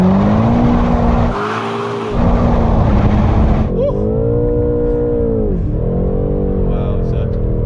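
A BMW M8 Competition with a 4.4-litre V8 roars loudly through a burnout, holding a steady high-revving howl with a brief lift in pitch before the revs shift and settle, with tyre noise blended in.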